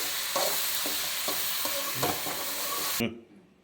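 Okra frying in a pan gives a steady loud sizzle, with regular scraping strokes of a stirring spoon. The sound cuts off abruptly near the end.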